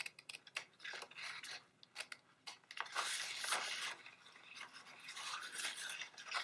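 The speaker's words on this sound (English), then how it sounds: "I'm just going to go ahead and use my scissors here." Scissors snip through a paper strip in a quick series of short, soft, crisp cuts up close, with no talking over them.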